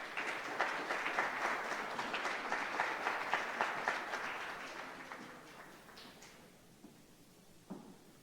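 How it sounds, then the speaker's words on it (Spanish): An audience at a nursing lecture gives a strong round of applause to welcome the next speaker, Licenciado Alejandro Regina. The clapping is dense at first, then fades out over several seconds, leaving a quiet room with a few stray knocks. "Vamos a darle paso a nuestro siguiente ponente, el licenciado Alejandro Regina. Por favor,"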